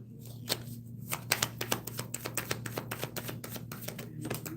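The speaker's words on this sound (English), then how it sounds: "I'm trying to be careful how I shuffle my cards" Tarot cards shuffled by hand at close range, a quick run of crisp riffling flicks and taps with a steady low hum beneath.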